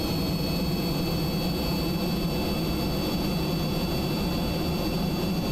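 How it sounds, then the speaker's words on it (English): Jet engines roar steadily in Kerbal Space Program, a dense, constant rumble with a thin high whine running throughout, loud and unbroken. "those engines are jets. They suck in air."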